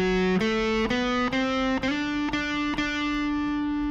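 Heavily distorted electric guitar plays a solo line from a song, slowed down for a lesson: about seven picked notes with slides between them, each sustained and harmonically rich, close and loud with no voice.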